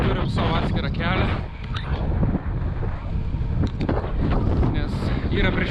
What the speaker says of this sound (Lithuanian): Nes yra priešpriešinis vėjas, biški daužo, tai bandom draftint.